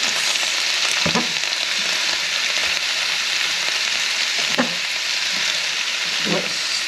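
Bean sprouts sizzle and fry for beef lo mein, with a steady hiss and a few sharp stirring scrapes and clacks of the utensil in the pan. No one speaks.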